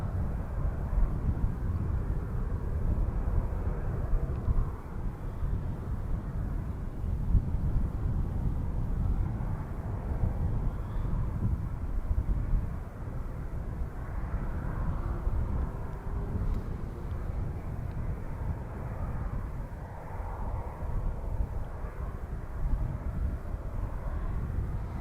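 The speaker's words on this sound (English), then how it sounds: "That's the summit aircraft that we just saw." A Summit aircraft passes at Edmonton International Airport, producing a steady, broad engine rumble that holds for the whole span, heard from a distance with little change in loudness.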